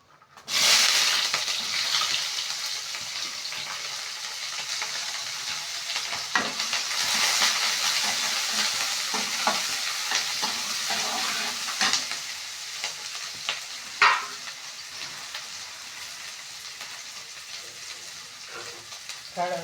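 Onion with mustard seeds frying in hot oil, a steady broadband sizzle with occasional stirring scrapes and pops, close and moderately loud, no talking.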